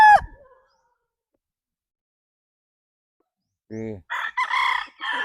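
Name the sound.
bullstag rooster crowing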